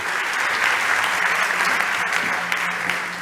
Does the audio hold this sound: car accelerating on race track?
no